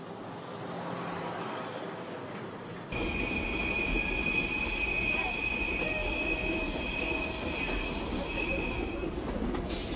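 Train on the Massawa–Asmara railway in Eritrea, an Italian-built line climbing from the coast to the highlands, with steady rumbling rolling noise and sustained high metallic wheel squeal, loud and close throughout after a quieter opening.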